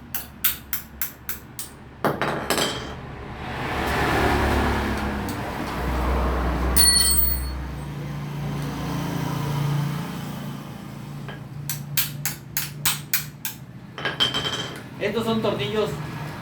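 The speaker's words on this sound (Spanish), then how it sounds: "Vamos a quitar los 4 tornillos de llave Allen que tiene." An Allen wrench removes four hard 6 mm Allen screws from a Karcher pressure washer, giving bursts of sharp metallic clicks and clinks at the start and end around a longer stretch of scraping and rumbling handling noise, with no talking.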